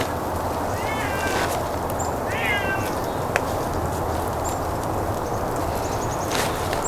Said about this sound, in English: Butchering brings out the barn cats.